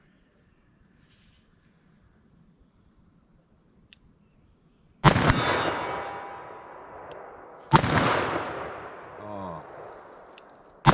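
Two loud, booming .44 Magnum revolver shots with Federal Fusion ammunition ring out about three seconds apart, each trailing off in a long echoing tail after a quiet stretch.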